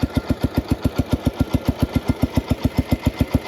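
An old Farmall Cub tractor engine runs at a steady idle, a rapid, even chug of low thuds, about six per second, loud and close with no voices.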